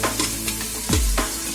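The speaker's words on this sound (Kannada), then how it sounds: "ಈರುಳ್ಳಿ ಈ ಥರ ಗೋಲ್ಡ್ ಕಲರ್ ಬರೋವರೆಗೂ ಚೆನ್ನಾಗಿ ಫ್ರೈ ಮಾಡ್ಕೊಳ್ಳೋಣ." Chopped onions and tomato fry in oil in a pan for vegetable pulao, a close sizzle broken by a few scraping stirs of a spoon against the pan.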